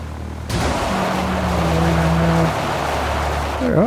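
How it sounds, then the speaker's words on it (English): Light bush plane touching down on a runway in the X-Plane flight simulator, a broadband rumble of rolling wheels and engine drone with a brief tonal tire squeal and a fresh bump near the end, no talking. "Alright, I think we've touched down on all 3 wheels at the same time."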